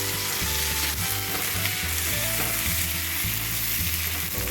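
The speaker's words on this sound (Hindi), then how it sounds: "अब इनको मिर्चों को और प्याज़ों को मैं अच्छी तरह फ्राई कर लूँगी" Onions with red and green chilies frying in oil, a dense continuous sizzle at an even, loud level across the whole stretch, with no talking.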